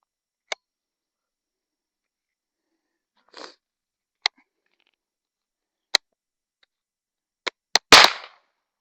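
Gunshots fired at birds in the woods: sharp isolated cracks spaced several seconds apart, fairly close and loud against a silent background, with a quick pair near the end followed by a brief rustle.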